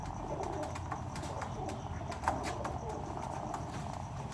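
Teddy breed pigeons, a male and female pair, cooing softly and steadily in a coop, low murmuring calls with faint chirps over a constant background hum, no talk.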